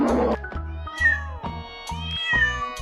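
Cat meowing on a farm, a series of about five or six short, clear meows in quick succession, close and moderately loud.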